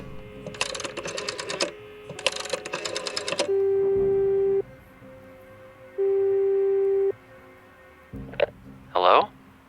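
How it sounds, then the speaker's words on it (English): Telephone ringback tone in the video game Frequency Missing, two long steady electronic tones with a pause between, following clicking keypad-like bursts and ending with brief rustling noises; no speech over the ring. "A phone. Should I call Carl?"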